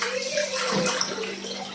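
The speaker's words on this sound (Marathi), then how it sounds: "हे तांदूळ आहे ना स्वच्छ पाण्याने दोन तीन वेळा धुवून घेते मी" Water sloshes and splashes steadily as rice is washed in a bowl, close by, with no talking.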